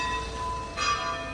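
Church bells ring in a small hillside town in Spain, a faint tonal peal over quiet outdoor ambience that swells briefly partway through.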